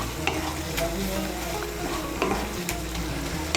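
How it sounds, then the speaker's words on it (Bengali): Turmeric and chili powder being stirred into hot oil in a pan, a steady close sizzle with scraping spoon strokes at intervals, no talk. "হলুদ গুঁড়ো আর লঙ্কার গুঁড়োটাকে মিশিয়ে নেব।"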